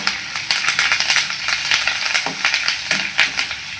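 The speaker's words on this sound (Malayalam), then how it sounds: "ഒരു 2 കറിവേപ്പിലയും കൂടെ ചേർത്തതിന് ശേഷം നമുക്കിതൊന്ന് നന്നായിട്ട് മൂപ്പിച്ചെടുക്കാം" Dried chillies, shallots and curry leaves fry in hot oil, giving a loud, dense, continuous crackle and spatter close by, with a few brief stirring scrapes.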